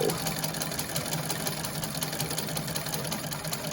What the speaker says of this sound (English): Feet on the treadle, spin the wheel, and go.